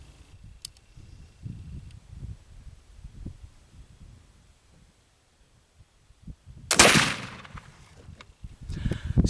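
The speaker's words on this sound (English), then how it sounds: "we get another shot downrange." A single sharp black powder gunshot fired downrange outdoors at a shooting test, a loud close blast with a trailing boom amid light wind noise and quiet handling sounds.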